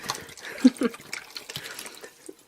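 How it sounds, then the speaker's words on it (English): Clean water is poured into a jug used for rinsing paintbrushes, giving a short run of splashes and drips close by at moderate loudness, with someone talking alongside. "I need to add some clean water into my one jug."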